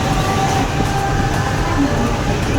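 Inside a Mumbai local train near Bhandup station, a steady loud rumble of the moving coaches fills the carriage, continuous with no clear breaks, with faint voices at times.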